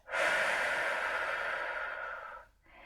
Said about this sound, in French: Une grande inspiration par les narines et une expiration par la bouche.